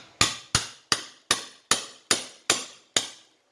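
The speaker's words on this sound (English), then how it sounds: "at the same time I will hit the piston with a hammer to push it down" Eight sharp, evenly spaced hammer blows ring out on the piston of a Graco 390 paint sprayer pump, each a bright metallic strike with a short decaying tail, close and loud with no talking.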